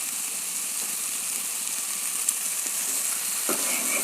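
Curd goes into a hot pan of spiced potato, paneer and pea curry seasoned with salt, turmeric and chilli powder, setting off a loud, steady close-up sizzle with a faint stir and scrape near the end.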